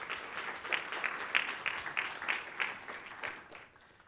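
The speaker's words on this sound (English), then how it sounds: "So let's please give them a round of applause" Moderate audience applause at a physics symposium, with scattered individual claps standing out in a loose rhythm before fading away near the end.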